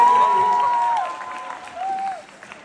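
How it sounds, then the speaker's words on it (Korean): Audience applause greets the cast at the final-performance curtain-call stage greeting of the musical Evita, with a sustained wash of clapping under a tonal voice or music line that fades toward the end. "큰 박수 부탁드립니다."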